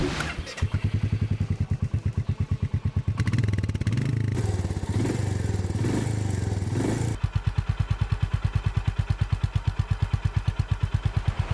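Honda H'ness CB 350 motorcycle exhaust, a loud, steady single-cylinder thump at idle that briefly swells as the throttle is blipped, then settles back into its even, pulsing beat.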